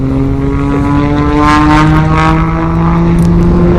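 A propeller aircraft flies at an air show, its engine a loud, steady droning hum that holds throughout with no voices.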